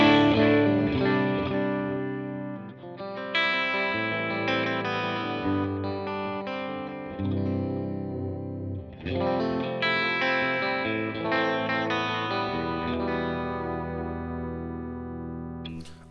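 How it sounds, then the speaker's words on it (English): Chords strummed on an electric guitar through a Deluxe Reverb amp model on a Line 6 HX Stomp, vibrato channel, clean with spring reverb and a shimmering vibrato, ringing out and sustaining across several phrases. "Let's just listen to just the amp sound off of the HX Stomp."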